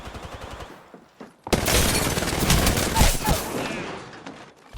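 Heavy gunfire erupts in a shooter video game, starting after a quieter stretch with a sudden loud volley that continues as a dense, sustained barrage close by, then eases slightly toward the end.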